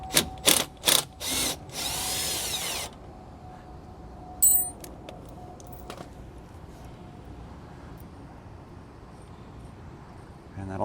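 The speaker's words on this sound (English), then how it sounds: "So we'll use a 1/4 inch Allen key and a 9/16 socket to remove the bolt." A factory bolt on a 2022 Jeep is worked loose with a 1/4 inch Allen key and a 9/16 socket. It gives several short, loud ratcheting bursts, a sustained grinding turn, then a brief metallic clink, followed by quiet handling noise.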